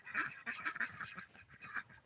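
Farm ducks quack in a faint, rapid series of nasal calls, several overlapping at a distance.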